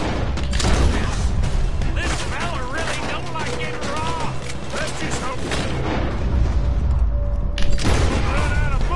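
BB gun fire in Red Dead Redemption 2, with repeated sharp shots and booms in a dense, loud game mix while someone talks over it.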